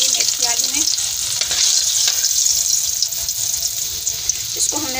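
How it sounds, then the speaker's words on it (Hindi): Garlic sizzling in hot oil for methi aloo, a steady loud crackling fry with a faint clink of a utensil now and then. "सबसे पहले हम लहसुन ऐड करेंगे"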